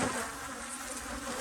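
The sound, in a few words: honey bees buzzing at the hive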